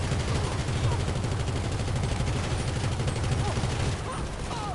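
A dense, continuous barrage of gunfire in GTA Online keeps up a steady, loud roar of overlapping shots, with no clear breaks between them.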